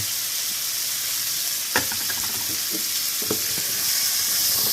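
Fish heads fry in a hot pan with a continuous loud sizzle and hiss, broken by a few sharp clinks of stirring and a brief knock, with no one speaking.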